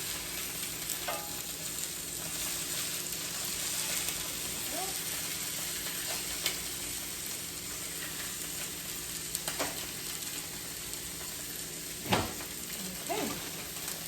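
Sausages fry in a pan during a budget lunch cook, a steady close sizzle running throughout, with a few utensil scrapes and knocks breaking through as the links get turned.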